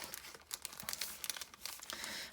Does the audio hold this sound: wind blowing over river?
no